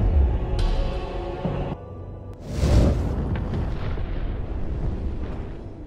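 An oil well explodes after a truck rams into it in a film scene, a heavy rumbling boom swelling midway and rolling on into a sustained roar of fire.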